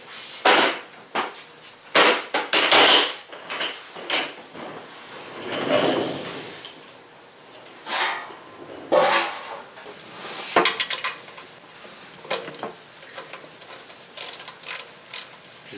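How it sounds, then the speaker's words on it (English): Ratchet and 14mm socket loosening the oil drain plug on a Nissan D40 pickup, heard as bursts of close metallic clicking and clanking in several short runs, with no talking. "Just loosen it up first with the ratchet, and then once the drain plug is loose, finish removing it by hand."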